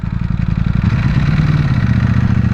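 A V4 motorcycle engine with aftermarket exhaust idles with a deep, throaty rumble and steady clatter, close and loud throughout, with a slight rise in pitch midway.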